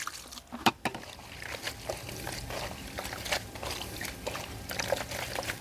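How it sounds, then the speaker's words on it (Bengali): Hibiscus flowers are washed in water, giving soft splashes, trickles and sloshing close by in an uneven rhythm, with no talk. "বেছে পরিষ্কার করে নেওয়া ফুলগুলোকে ভালো করে ধুয়ে নেব।"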